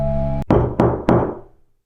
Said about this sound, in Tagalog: Hanggang isang gabi, nagsimula na ang mga katok.